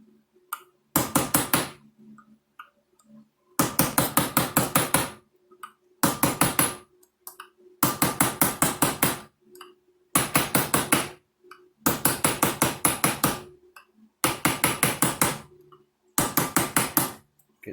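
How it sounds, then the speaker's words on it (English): A hammer drives a cold chisel to knock dovetail waste out of wood in eight close bursts of rapid, ringing metallic taps. Brief pauses separate the bursts, and the rhythm stays regular throughout. "take our trusty hammer and cold chisel and just knock these out"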